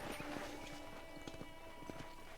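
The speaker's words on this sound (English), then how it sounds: "let's see if you can still ride a horse." Horse hooves clip-clop at a steady walking pace while riding on a ranch in the video game Red Dead Redemption, faint and even under light ambient background.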